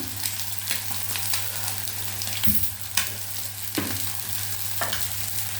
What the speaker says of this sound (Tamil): வெங்காயம் வதங்கிட்டுருக்கு. அதில் கொஞ்சம் உப்பு போட்டுப்போம்.